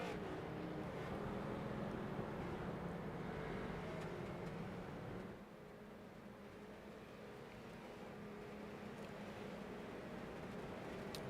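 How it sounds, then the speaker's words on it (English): Street stock race cars rolling off pit road onto the track at Myrtle Beach Speedway, a steady low engine rumble at a distance, droning continuously and easing slightly midway. "As the field just starts rolling off of pit road onto the racetrack."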